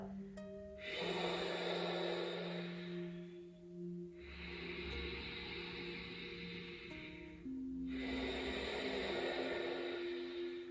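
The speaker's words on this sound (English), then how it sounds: "So 3 breaths, inhale, exhale" Slow, deep yoga breaths in a Sun Salutation B practice, long airy inhales and exhales alternating in three cycles, close and steady over soft background music.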